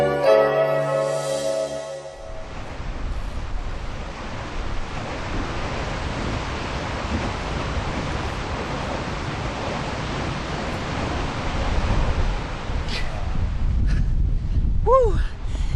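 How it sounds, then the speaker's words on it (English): Strong wind roars across the microphone in a steady, loud rumbling rush on a windy day in Hsinchu, after a brief burst of music at the start, with a few faint chirps near the end. "It is windy here."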